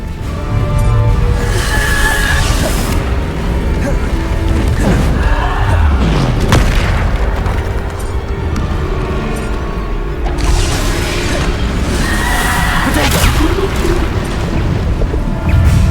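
Repeated Bombarda explosion spells from the video game Hogwarts Legacy, loud thumping booms and crashes over a dense, continuous bed of battle effects and music.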